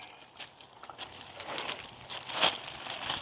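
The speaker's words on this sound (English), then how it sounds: "This is a trash bag, well, a leaf bag. I cut these, I opened them up," A plastic leaf bag, cut open, crinkles and rustles as it is handled, with soft irregular crackling close by and no talk.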